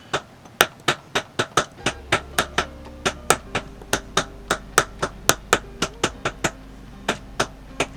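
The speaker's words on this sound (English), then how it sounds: "hammering this down into the piece to make the little textured effect" Rapid, sharp metallic hammer taps texturing sterling silver for earrings strike over and over in a steady, brisk rhythm, close and bright, with a low hum underneath.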